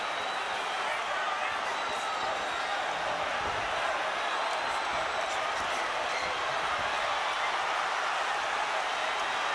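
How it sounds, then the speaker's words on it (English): A boxing arena crowd roars continuously during the Miguel Cotto vs Yuri Foreman fight, a dense, sustained wash of cheering that stays steady throughout. "The crowd is in a fever pitch."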